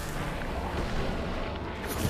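A deep, rumbling explosion in the video game Guild Wars 2, from a slow-moving explosive air block, roars as a steady, dense blast that fills the whole stretch at moderate loudness.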